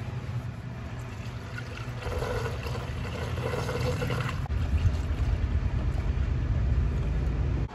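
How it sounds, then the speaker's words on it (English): Coolant glugs and trickles steadily into the engine of a Ford F-150 2.7 EcoBoost, a continuous pouring sound that grows slightly fuller toward the end. "Last thing to do is to add coolant."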